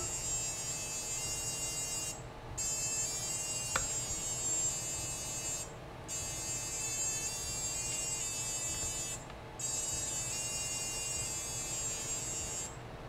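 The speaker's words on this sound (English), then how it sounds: "So that is the startup tones for this one." A BLHeli32 drone ESC plays its startup music through the motors, a buzzy electronic tone rendition of the national anthem in steady held notes, broken by a few short silent gaps.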